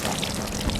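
A hose sprays water onto a horse during a bath, a short, close burst of hissing, splashing spray.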